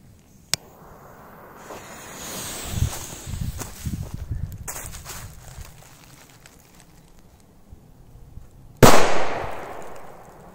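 Firecrackers set off outdoors, one placed in an animal burrow: a sharp crack near the start, low scattered thuds and rustling, then one loud close blast with a hissing, crackling tail near the end.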